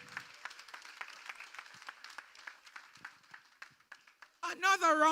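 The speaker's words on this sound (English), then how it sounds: "Another round of applause for our keynote speaker" Audience applause at a school graduation ceremony, a thin spread of scattered hand claps that grows suddenly louder and denser near the end.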